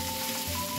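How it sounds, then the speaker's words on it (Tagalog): Pork spare ribs sizzle steadily in a hot pan with garlic and onion, a continuous close frying hiss with faint clinks. "pan-fry natin muna guys hanggang mag-brown siya"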